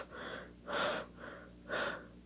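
Voice imitating hard panting: four heavy breaths, alternating softer and louder, each a rough gasping rush of air, close and alone.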